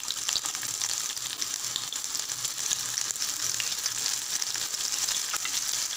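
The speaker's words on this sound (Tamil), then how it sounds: "எண்ணெய் காஞ்சதும் நம்ம அறுத்து வச்சுருக்கிற வெங்காயத்தூள் சேர்த்துக்கலாங்க." Chopped onion frying in hot oil in a pan, a steady close sizzle that stays even and continuous throughout, with no talking.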